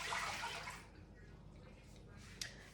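Vegetable broth and water poured into a crock pot, a steady close splashing gush for under a second that fades into quieter trickling and a faint clink.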